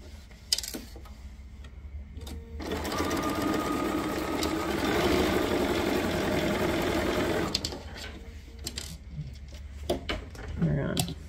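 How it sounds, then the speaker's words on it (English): A sewing machine stitches a quilt block seam along a marked line in a steady, close mechanical whir lasting about five seconds. Brief handling noises and a few soft spoken words come before and after the stitching. "You're gonna sew on that line."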